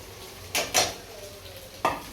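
Poha tipped into a pan and stirred with a metal spoon, a few sharp scrapes and clinks against the pan over a faint low sizzle, close by and otherwise quiet.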